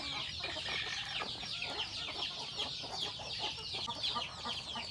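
Chickens cluck and chatter continuously at a steady, moderate level, a busy flock heard close with no voices.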